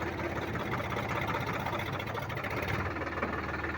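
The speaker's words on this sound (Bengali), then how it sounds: "গাড়ি আমার স্টার্ট হয়ে গেছে।" A rotavator tractor engine runs steadily and loudly at close range, with a continuous low, throbbing drone and no pauses.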